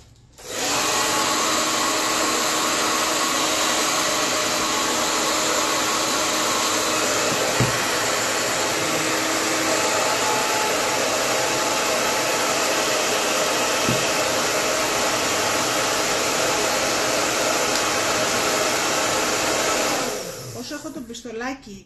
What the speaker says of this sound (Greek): Πιστολάκι, το αφήνω λίγο να στεγνώνει.